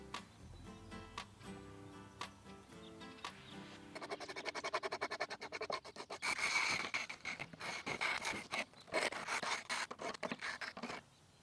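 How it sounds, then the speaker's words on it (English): A 3-inch steel scraper with a slightly radiused edge rasps loose char from the inside of a whiskey barrel, sparse strokes at first and then rapid, dense scraping that fills the space closely and loudly, with no talk. "we scraped the inside, most of the loose char off"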